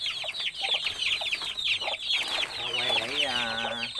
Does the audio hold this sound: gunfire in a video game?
no